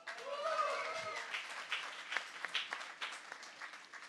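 Clapping audience at a science slam in Germany, applause swelling after a brief voice and continuing as a dense, moderately loud patter of many hands.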